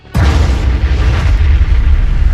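A heavy gunshot blast in an anime kaiju battle that tears off the monster's arm: one sudden sharp boom followed by a sustained, rumbling roar of debris and echo.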